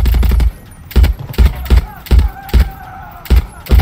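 Gunfire in the video game Far Cry 6 comes as rapid bursts of loud shots in uneven clusters, close and punchy, with a faint tone lingering between bursts.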